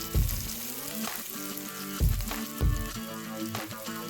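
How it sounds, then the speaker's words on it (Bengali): Chopped garlic, chilli and julienned onion hit hot white oil, giving several loud bursts of sizzling that settle into a softer crackle between them, over a steady tonal background. "তেলটা গরম হলে আমরা দেব রসুন কুচি আর দেব লঙ্কা কুচি। এবার দিলাম জুলিয়ান করা পেঁয়াজটা।"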